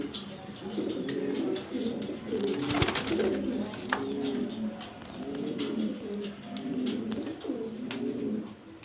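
Pigeons cooing in repeated soft throaty phrases at close range, with a brief flutter or scuffle midway and someone speaking intermittently under and between the calls.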